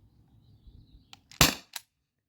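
A modified T4E HDP50 CO2 pistol fires a 1.4 gram nylon ball with a single sharp, loud crack, followed by a shorter, weaker pop as the gas runs low, close and without talk.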